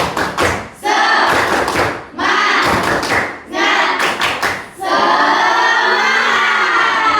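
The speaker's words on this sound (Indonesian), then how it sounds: "Tepuk semangat." A classroom of students performs a rhythmic clapping chant, bursts of claps and thumps in patterned groups, then a sustained loud group shout or cheer at the end.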